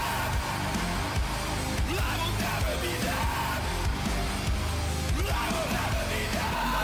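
Harsh screamed vocals over a punchy heavy metal riff, loud and continuous with dense drums and guitars throughout.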